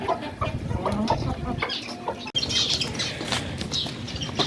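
Chickens kept in a cage on a rooftop cluck and squabble, with bursts of flapping wings and sharp squawks in a steady, close-up flurry of fowl noise.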